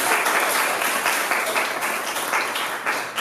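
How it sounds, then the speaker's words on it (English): Applause from an audience at a Fulbright Taiwan gathering for a visiting Assistant Secretary of State, dense sustained clapping filling the moment, loud and steady throughout. "Do I get a round of applause?"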